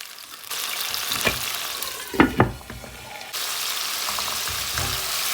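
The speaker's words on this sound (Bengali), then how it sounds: "ডাটা কষে না হয়ে গেছে এখন ঝোল দিয়ে দেবো" Drumstick stems and fish curry sizzle and fry in a pan, a steady close hiss with a couple of brief clatters from stirring.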